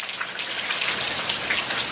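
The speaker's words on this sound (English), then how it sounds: "it's downpouring out" Heavy rain pours down outdoors in a steady, dense hiss of drops striking surfaces, loud and continuous with no break and no voices.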